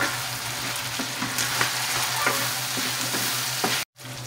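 Pancit canton egg noodles being stirred and fried in a pan, a continuous close sizzle with scraping stir strokes throughout, broken by a brief silent gap near the end.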